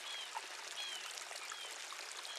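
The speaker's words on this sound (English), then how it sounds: "The area presents an excellent base for hunter-gatherers, with the only free running water within kilometers." A free-running stream in a remote stretch of Namibian bush gives a steady, soft trickle and pour of water that continues without a break, with faint birdsong in the background.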